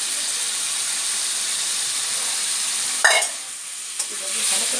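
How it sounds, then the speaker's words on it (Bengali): Boiled taro stolons stir-fried with spices in a pan give a steady, close sizzle and hiss throughout, with a sharper burst of frying and a scrape of stirring near the end. "এটা এবার ভালোভাবে কষতে হবে লতি দিয়ে সমস্ত মশলাটা।"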